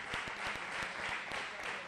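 Distant, steady applause from an audience at a flamenco project presentation, a continuous patter of many hands clapping at low volume.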